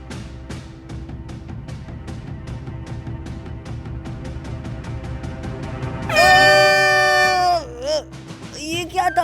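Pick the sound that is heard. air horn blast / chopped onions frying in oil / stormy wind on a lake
air horn blast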